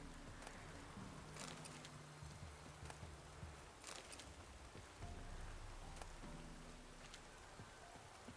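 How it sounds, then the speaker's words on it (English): Soft, steady rainfall in the video game Witcher 3 patters on a surface under a low, stepping tonal hum, with a few brighter drops standing out; fairly quiet and continuous. "Looks like rain."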